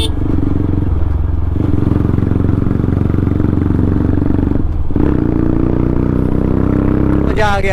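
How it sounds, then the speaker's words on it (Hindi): A TVS Apache 160 4V motorcycle with a full-system aftermarket exhaust runs loud and bassy up close, holding a heavy, constant engine drone with a brief rev dip midway. "एग्जॉस्ट की साउंड जो है वो बहुत ही ज़्यादा लाउड और बेसी है"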